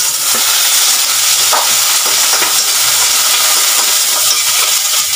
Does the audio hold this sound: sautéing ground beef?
yes